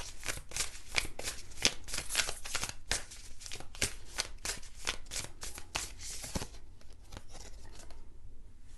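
A Starseed oracle card deck is shuffled by hand in quick, rhythmic riffles and slaps, close and fairly quiet, pausing briefly before a few softer final shuffles.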